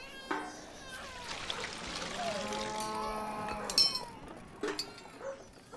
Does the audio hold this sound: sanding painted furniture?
no